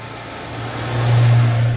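An MGB's engine hums and builds in a steady low drone as it accelerates on a winding road, with a voice talking over it throughout.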